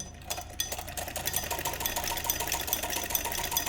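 A sewing machine stitching a sleeve runs steadily and close, its fast mechanical whir and rapid needle ticking holding constant after a brief start, with no voices.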